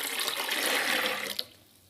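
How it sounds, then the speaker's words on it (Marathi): Water runs steadily into a metal idli steamer pot for over a second, then cuts off, leaving near silence. "ते इडली पात्र घेतलेलं आहे त्याच्यामध्ये मी पाणी घालून घेणार आहे"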